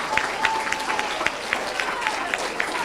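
Applause for fourth grade students at a school awards ceremony; a modest crowd claps steadily, with individual claps standing out over a general patter, and voices murmur underneath.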